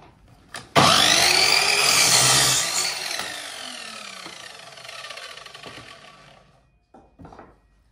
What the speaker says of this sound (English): So first of all, make it square on the drop saw.